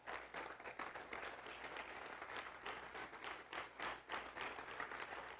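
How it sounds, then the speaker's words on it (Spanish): A church congregation claps loudly in praise of the Lord, dense, continuous applause with rhythmic surges, fairly distant and alone without speech. "Dale un aplauso fuerte al Señor."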